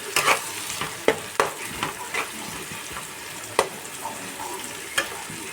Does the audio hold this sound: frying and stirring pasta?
yes